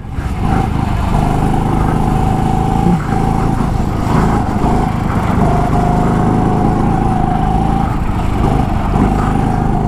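A small buzzing go-kart engine whines steadily and loud on a rain-soaked track, with slight rises and dips in pitch as it races along.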